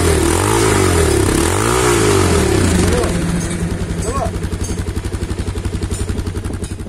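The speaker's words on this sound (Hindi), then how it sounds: "मोतुल का इंजन ऑयल डालने के बाद बाइक की जो एग्जॉस्ट नोट है आप लोगों को मैं एक बार सुना देता हूँ" A Bajaj Pulsar 220F BS6 motorcycle running on Motul 7100 engine oil revs loudly up close, its exhaust note rising and falling before settling into a steady, rapid, pulsing idle thump.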